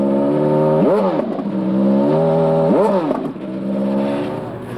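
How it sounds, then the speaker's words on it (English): Racing V8 Indycar engine rasping at a desert track at dusk, its harmonic note swooping up twice in sharp revving surges between steadier high-pitched drones, loud and close with no talk. "the quiet was broken by the rasp of a racing V8"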